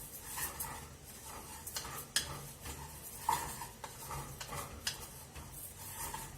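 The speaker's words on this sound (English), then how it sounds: "You can see I'm stirring the parboiled rice with some oil and garlic." Parboiled rice is stirred in a hot pan with oil and garlic, giving soft scraping strokes and faint sizzling with occasional utensil clinks against the pan.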